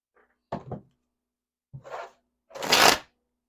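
Tarot cards being shuffled in three separate bursts, a short riffle first, then a softer one, and a louder, longer rustling shuffle last, close up with quiet pauses between.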